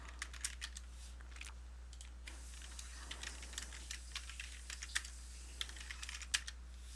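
Rapid, light keystrokes patter on a computer keyboard as C code is entered, an uneven run of close clicks over a steady low electrical hum, with no one speaking.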